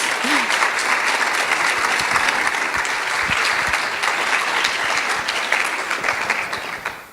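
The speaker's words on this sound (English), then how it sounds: "Now you can clap." Audience at a fall funding accelerator presentation breaking into steady applause, a dense, even wash of clapping throughout that tapers off at the end, with a few voices underneath.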